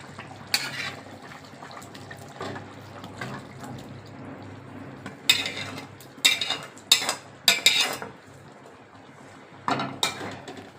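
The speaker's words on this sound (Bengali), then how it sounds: "চিংড়ি মাছটা দিয়ে দিলাম" Shrimp tipped into a pan and stirred for a Bengali shrimp curry with pumpkin and potato, a soft simmering bed broken by several sharp clinks and scrapes of a utensil against the pan, close and intermittent.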